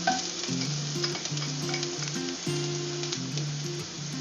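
Ginger hits a hot pan for a Filipino beef adobo with beef heart, liver and kidney, giving a steady, close frying sizzle that runs throughout beneath a looping melodic music track.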